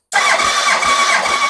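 A Yamaha R1 motorcycle engine cranking over on the starter during a compression test, a steady loud whirring drone with a faint pulsing rhythm, close up and without talk.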